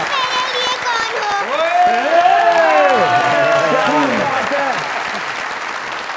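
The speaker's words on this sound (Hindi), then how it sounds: "मेरी बेटी के लिए ढेर सारी तालियां" A studio audience at a show with an actor breaks into sustained, loud applause, clapping steadily for several seconds while a voice talks over it before it fades slightly.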